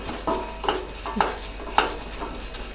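Dried red chillies roast in ghee in a pan, a soft sizzle running under a few rhythmic scraping stirs of a spoon, close and moderately loud.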